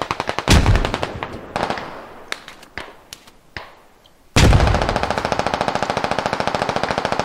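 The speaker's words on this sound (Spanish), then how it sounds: "Hay alguien por ahí con una ametralladora," Machine gun fire in the military shooter game Squad: a couple of sharp bursts, scattered single shots, then a long loud sustained rattling burst of rapid automatic fire close by, no talking.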